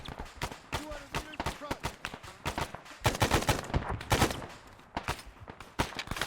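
Machine gun fire in the military shooter Arma 3, with a 2035 WW3 NATO setting, rattling out in short, sharp bursts of a few rounds each, loud and close, with brief gaps between volleys.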